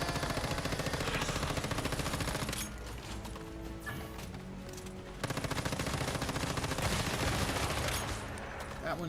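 SMG gunfire in the survival shooter video game Once Human: rapid sustained automatic bursts of close, loud shots running almost unbroken, with a short lull in the middle and some game sound beneath.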